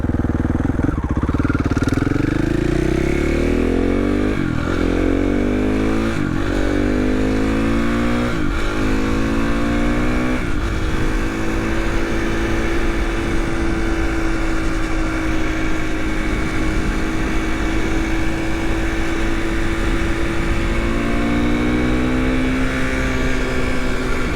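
A 2016 KTM 450 XCF motorcycle engine runs loud and close the whole time. Several sharp throttle blips come early, then it settles into a steady idle.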